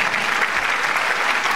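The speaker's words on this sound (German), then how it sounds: "Und bitte einen herzlichen Glückwunsch und Applaus für unsere Gewinner" A crowd applauds the winners at the finale of a Cologne whirlpool TV show, loud, continuous clapping that carries through the whole moment without any speech.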